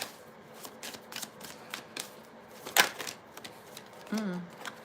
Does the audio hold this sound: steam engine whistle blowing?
no